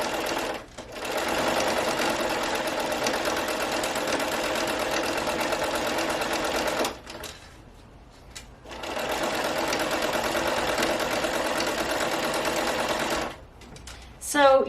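Close, steady whirring of a sewing machine gathering fabric for a ruffled farmhouse-style pillow, running in two long stretches separated by a brief pause, with a short stop near the end.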